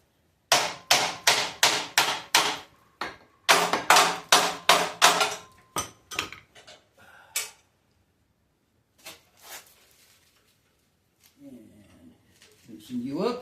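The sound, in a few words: hammer striking Ford Model A leaf spring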